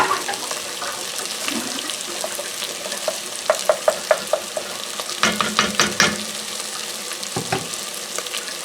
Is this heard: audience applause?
no